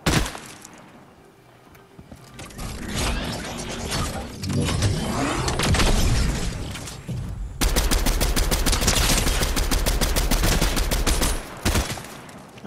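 NPC gunfire in Fortnite, heard as dense bursts of rapid automatic shots and single cracks, loud and close, running for most of the stretch with short gaps and mixed with in-game clatter.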